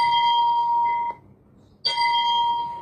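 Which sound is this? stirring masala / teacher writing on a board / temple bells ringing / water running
temple bells ringing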